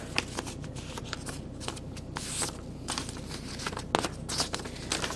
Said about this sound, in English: fold your paper into 4